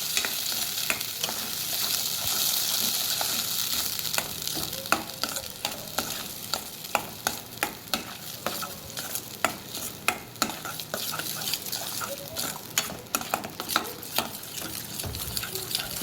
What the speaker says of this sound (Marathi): त्याला तेल सुटेपर्यंत आपल्याला मिक्स करायचं आहे.